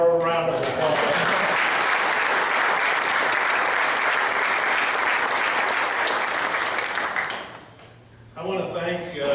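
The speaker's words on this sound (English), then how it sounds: "please give her one more round of applause" A crowd applauds loudly and steadily for several seconds at a sports hall of fame induction ceremony, then the clapping fades out and a voice begins speaking.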